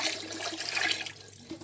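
Water poured into a pot of Nigerian party jollof rice, a short close rushing pour that runs strong for about a second, then thins out into lighter trickling.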